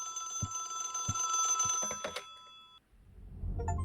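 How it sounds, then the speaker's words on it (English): An old-style telephone bell rings in a horror video game's security room, sharp metallic rings repeating in rhythmic bursts before cutting off into a low ambient rumble. "And after that, the phone will ring."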